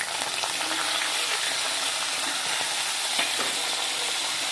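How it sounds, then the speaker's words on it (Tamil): Urad dal, curry leaves and dried red chillies hiss and sizzle steadily in hot sesame oil, a constant close frying crackle for the whole stretch. "வச்சு எண்ணெய் காஞ்சிச்சு, தாளிப்பு சேர்த்துக்கலாம்"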